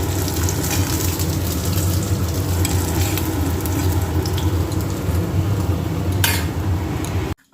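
Food frying in a pan in a home kitchen, with a steady, loud sizzle that runs unbroken for about seven seconds, joined by a brief scrape or clink of utensils near the end.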